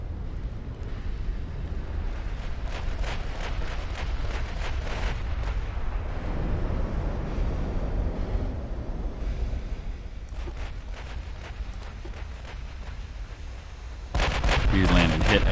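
Naval guns from a Montana-class battleship in the Ultimate Admiral: Dreadnoughts warship game boom in a steady, dense barrage of heavy broadside fire with rumbling low end, ending in a loud volley of sharp, rapid blasts, with no talk.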